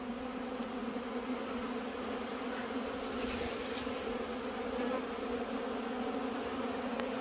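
Bees hum steadily in the hills of Jamaica, a continuous low drone of many insects at moderate distance, faint and unbroken with no voices.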